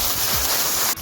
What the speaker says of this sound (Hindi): अब इसमें ये चनों का पानी जिसमें बॉईल किया था